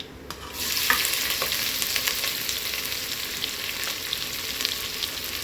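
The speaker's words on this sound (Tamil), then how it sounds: "ஆனியன் பச்சை மிளகா நல்லா வதங்கணும்." Onions and green chillies sizzle steadily in hot oil while being sautéed for mutton biryani, a continuous bright frying hiss with occasional stirring clicks, close and moderately loud, no voices.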